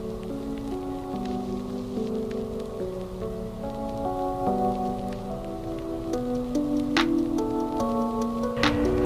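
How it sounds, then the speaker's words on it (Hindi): Steady heavy rain hisses continuously in Umluj, Saudi Arabia, with a few sharper drips near the end, while a sustained melodic tune plays over it. "इस वक्त जो है वो धुआंधार बारिश हो रही है।"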